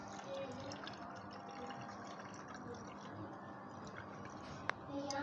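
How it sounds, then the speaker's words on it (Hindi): Herbal tea for stomach pain is poured through a strainer into a large cup, making a soft, continuous trickle and splash with a small clink near the end, over low background noise. "अब हम उस पानी को जो है स्ट्रेनर की मदद से हम इसके अंदर ये देखें ऐड कर देंगे।"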